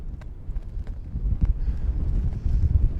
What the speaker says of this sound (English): It seems like the wind is dying down though.